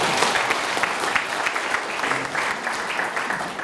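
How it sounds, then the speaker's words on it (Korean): An audience at a provincial governor's official visit claps together, dense and steady applause that holds loud throughout. "성과 잘 내보라고 박수 한번 쳐볼까요?"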